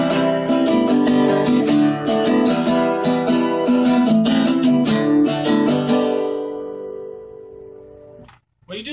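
Chords ring out on a guitar in a steady, close strummed rhythm for about six seconds, then fade away, followed by a faint brief noise at the end.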